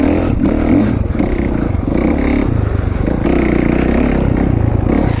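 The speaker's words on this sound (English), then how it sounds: "KX 450F, great motorbike, fast as hell." A Kawasaki KX 450F dirt bike rides off-road at an OHV area, its engine droning loud and close with rhythmic revving pulses, clattering and scraping of the trail underneath.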